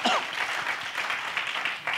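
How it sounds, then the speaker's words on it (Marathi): A congregation claps for Jesus during a sermon, a brief burst of dense clapping with voices faintly mixed in. "Can we give Jesus a clap"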